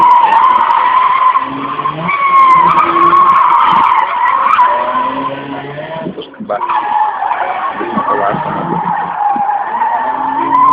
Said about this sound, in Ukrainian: автомобіль власного виробництва університета Олександра